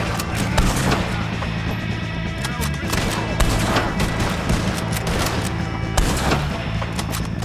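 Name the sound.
gunfire in the video game Red Dead Redemption 2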